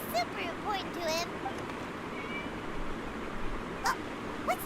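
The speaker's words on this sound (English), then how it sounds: "It was just a cat." A cat in the fantasy game Genshin Impact meows several times, soft and fairly near, over a steady ambient wash, with short cries spaced through the stretch.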